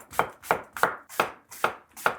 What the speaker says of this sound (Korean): 자, 그러면 이제 차근차근 하나씩 썰어 봅시다.